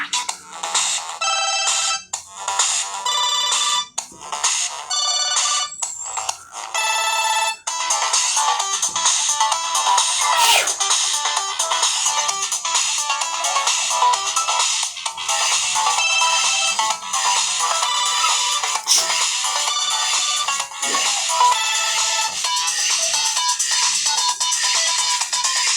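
A ringtone playing on a Samsung Galaxy S phone: choppy, stuttering electronic notes open it, then a bright, dense, continuous melody runs loud and close for over twenty seconds, with no speech.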